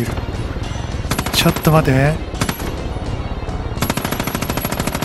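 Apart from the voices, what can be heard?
sniper gunfire in Far Cry 5, video game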